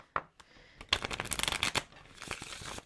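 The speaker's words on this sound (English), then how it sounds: "I'm going to pull two of these cards" A tarot deck is handled and shuffled up close, giving a quick flurry of crisp card riffles and slaps that lasts a couple of seconds.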